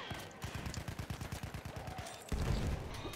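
Rapid, evenly spaced gunshots in a Battlefield 1 match, a fast burst of about a dozen sharp reports, followed by a heavier, louder blast near the end.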